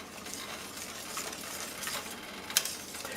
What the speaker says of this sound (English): I'm stirring it fast so you don't see if there's any lumps in it